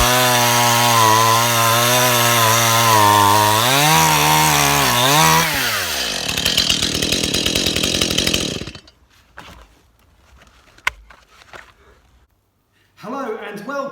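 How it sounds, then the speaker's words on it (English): A chainsaw runs loudly, its pitch sliding up and down for several seconds, then shifts to a rough buzzing rattle before cutting off into near quiet; a brief voice-like sound returns at the end. "Mr Badger, that's not a smoothie maker, that's a chainsaw"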